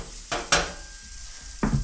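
Food stir-fried in a small pot on a stove inside a snowbound roadside prefab hut, with a few sharp scraping stir strokes over a steady sizzle, loud and close.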